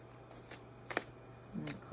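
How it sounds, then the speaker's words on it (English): Tarot cards being shuffled by hand, a few soft quick riffles and slaps spaced apart, quiet and close with a faint background hum and no talking. "I don't even aspire to be a fast tarot shuffler."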